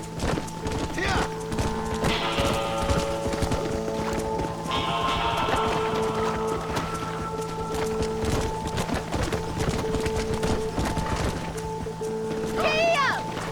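Horses gallop in a stampede in Red Dead Redemption 2, with dense, rapid hoofbeats pounding continuously at close range, a whinny cutting through near the end, and voices shouting over the herd.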